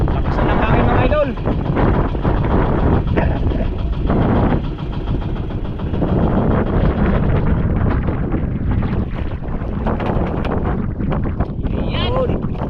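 Strong wind at sea roars across the microphone in loud, continuous buffeting gusts, with an engine humming underneath and voices talking over it.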